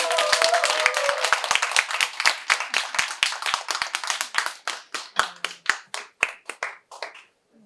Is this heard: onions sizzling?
no